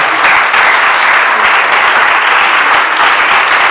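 Sustained, loud applause fills the hall at an old boys' 50-year school reunion, a thick, even wash of many hands clapping close by without a break.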